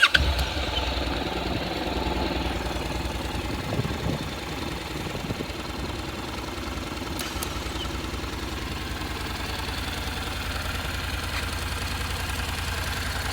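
A Honda NC750X motorcycle idles steadily and quietly nearby, a low, even thrum that holds without revs or voices.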